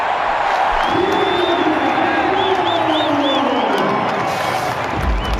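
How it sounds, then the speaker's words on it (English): Sri Lankan cricket crowd at a T20 World Cup match cheering a boundary four, a loud, close, sustained roar with whoops and whistles, under a commentator's voice. "Something to cheer about, and the Sri Lankan crowd don't miss out."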